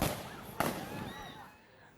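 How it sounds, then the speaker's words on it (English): Two gunshots at a street protest in Kenosha, sharp distant cracks, one at the very start and a second a fraction of a second later, followed by echoing outdoor ambience. "That was the sound of 2 gunshots."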